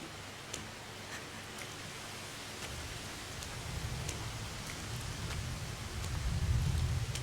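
Rain falls in the medieval game Kingdom Come: Deliverance, a soft steady hiss with scattered ticking drops, swelling into a heavier low rumble toward the end.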